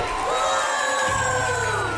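A studio crowd cheers and applauds to send off three eliminated pairs of identical twins in a prize competition, a sustained wash of clapping and shouting over steady tonal music.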